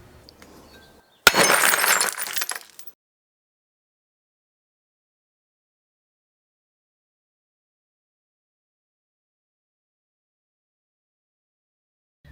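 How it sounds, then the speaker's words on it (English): A lowercase pyrex glass pie plate shatters in a drop test, one sudden loud crash followed by about a second and a half of tinkling, scattering shards, then silence. "lowercase Pyrex pie dish plate to see how it performs in the shatter test"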